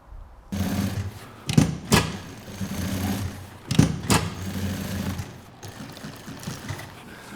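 Sewing machine stitching a heavy backpack seam, a steady mechanical whir running for several seconds with a couple of loud thumping knocks partway through, then stopping.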